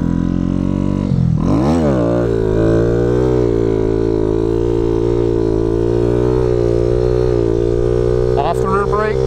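A motorcycle engine held at steady throttle through a wheelie, droning at a constant pitch with brief revving swells near the start and end, loud and close.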